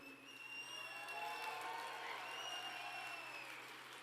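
Audience at an awards ceremony applauds steadily, a dense even patter of clapping with scattered cheers, moderately loud and sustained throughout.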